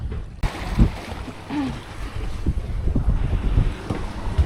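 A sailboat moves through the water in a light breeze in the Gulf of Gokova, with steady wind buffeting the microphone, gentle lapping water and faint creaks, close and continuous.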